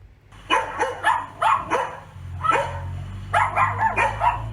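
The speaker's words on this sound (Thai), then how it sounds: "เฉลยค่ะคือข้อขอไข่ เสียงของสุนัข" A dog barks repeatedly and close by, in uneven clusters of sharp barks with brief pauses, plus a low background hum.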